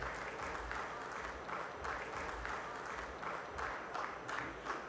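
A conference audience at a supply-chain industry awards event applauds steadily for about five seconds. The dense clapping is fairly faint and distant, with no talk over it.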